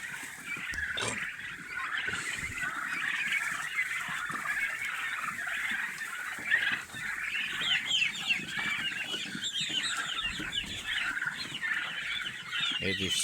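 Turkeys and chicks chatter, cluck and peep continuously inside their coops, a dense close chorus of fowl with a few faint human sounds in the background.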